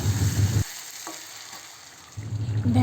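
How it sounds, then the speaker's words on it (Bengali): Small pieces of meat are stir-fried (kosha) in a pan for biryani, loud close scraping and sizzling bursts at the start and end with a quieter crackling pause between. "মাংস কষা করব আর বিরিয়ানি করব।"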